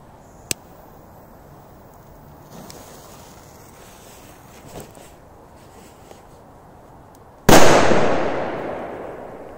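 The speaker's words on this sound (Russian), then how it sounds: "Ух, поменьше треугольник взорвался" A smaller triangle-shaped firecracker goes off in one sharp, loud blast near the end, its crackling decay trailing off over a couple of seconds after several quiet moments with faint small pops.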